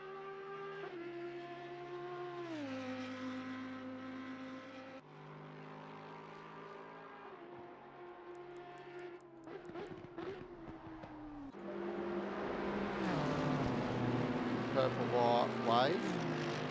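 A race car in Assetto Corsa Competizione on Xbox, running the Bathurst circuit, crosses the start-finish line: a whining engine climbs and drops through gear changes, then swells louder as it passes, under steady commentary.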